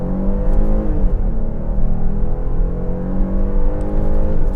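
A 2025 Kia Carnival SX-Prestige with a naturally aspirated V6 pulls away in first gear under throttle. The engine gives a loud, steady rumbling drone that climbs in pitch as the revs rise, heard from inside the cabin.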